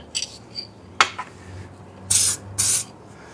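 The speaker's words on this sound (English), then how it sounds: "I'm just going to spray a little bit on this blend right here and right on that edge" Two short hissing bursts of aerosol reducer sprayed onto a clear coat blend edge on paint, close and fairly loud, after a few light taps and clinks.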